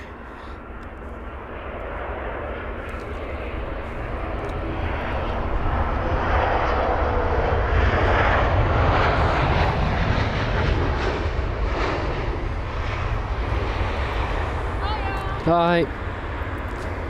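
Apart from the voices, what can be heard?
Singapore Airlines A380-800 arriving at London Heathrow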